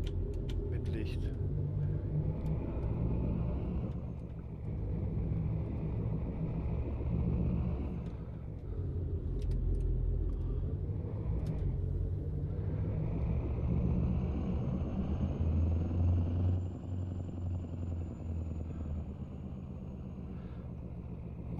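Truck driving in American Truck Simulator on a route to Mexico: a steady low engine rumble and drone with slight shifts in pitch, continuous and close, with talking over it in places.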